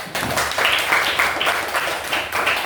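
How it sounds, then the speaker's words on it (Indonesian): A classroom of pupils claps for a classmate during a Christian religious education lesson, a lively burst of many small hands that swells and continues in uneven waves. "Beri tepuk tangan"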